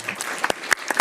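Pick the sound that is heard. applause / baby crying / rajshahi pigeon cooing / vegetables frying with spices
applause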